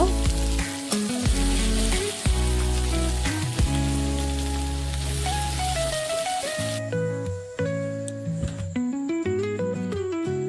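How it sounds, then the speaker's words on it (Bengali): Onions fry in hot oil with a dense, crackling sizzle, partly masked by loud tonal background music, the frying dropping away near the end as the music carries on. "পেঁয়াজগুলো একটু ভালো করে ভেজে নেব।"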